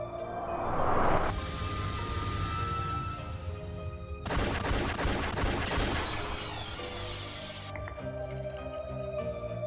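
Gunfire in the Umineko When They Cry visual novel: a bright chime-like opening gives way to a dense, sustained volley of sharp shots and crashing impacts that cuts off abruptly, then ringing tones.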